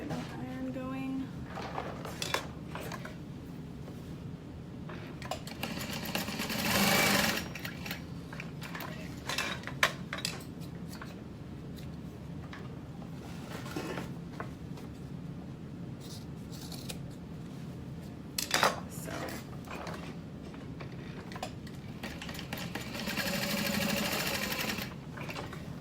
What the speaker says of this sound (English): So there I've sewn on either side of that black line